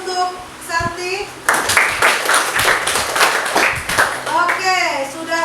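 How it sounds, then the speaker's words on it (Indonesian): A classroom of students claps for a classmate, giving a burst of dense, steady applause that lasts a few seconds, with a teacher's voice speaking before and after it. "Aplaus untuk Santi."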